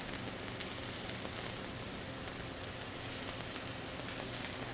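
Chicken thighs and shrimp kabobs sizzle steadily on a grill, a dense continuous crackle that holds close and even throughout with no voices.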